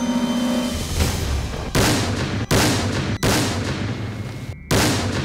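Underwater explosion set off in a swimming pool to simulate deep-sea pressure on gadgets, heard as a series of heavy booming blasts with abrupt cuts between loud rumbling bursts.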